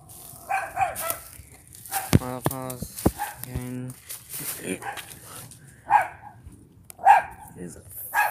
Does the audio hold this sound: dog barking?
yes